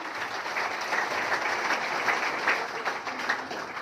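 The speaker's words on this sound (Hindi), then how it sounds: "मैं एक बार अपने गुरु रामेश्वर जी के लिए जोरदार तालियां चाहूंगी" Loud, sustained applause from a seminar audience, dense clapping filling the room evenly from start to finish with almost no talk over it.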